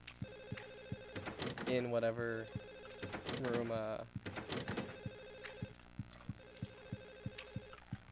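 A telephone in the video game Silent Hill 4: The Room rings in a steady repeating pattern of bell bursts, with someone talking over the first few rings.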